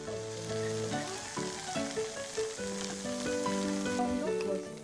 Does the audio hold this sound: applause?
no